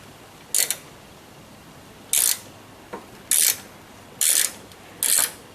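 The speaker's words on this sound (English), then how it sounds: "I think what I'm going to do is loosen up" A tool working loose the hinge assembly of a Poison Spyder tire carrier on a vehicle, heard as five short, crisp mechanical ratcheting bursts spaced about a second apart against a low, quiet background.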